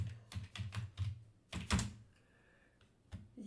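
Typing C# code on a computer keyboard in Visual Studio: a run of firm, close keystrokes in an irregular rhythm, a heavier cluster in the middle, then a pause and one last tap, with no talking.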